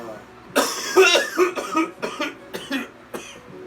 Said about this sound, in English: the man is coughing his fucking lungs over